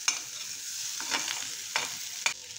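Sweet corn fries in butter with browning garlic while a spoon stirs the pan in several brief scraping bursts over a steady soft sizzle.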